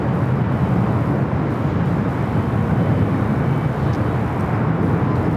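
A Lufthansa Boeing 747-8 Intercontinental from Frankfurt at Los Angeles LAX gives a steady, loud, broad jet roar that holds evenly throughout with no break.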